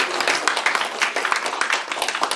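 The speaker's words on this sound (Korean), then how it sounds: "우리 박은희 회장님께 뜨거운 박수를 한번" An audience applauds at a newspaper launch ceremony, with steady, dense clapping that fills the room and carries on without pause for a couple of seconds.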